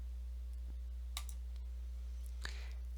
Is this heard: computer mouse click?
yes